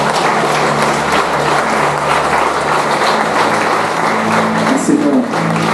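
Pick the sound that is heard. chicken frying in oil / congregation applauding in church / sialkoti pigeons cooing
congregation applauding in church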